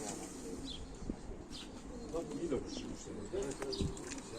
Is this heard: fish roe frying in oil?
no